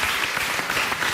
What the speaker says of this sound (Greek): Μπράβο στην Τραπεζούντα, ένα χειροκρότημα για αυτή.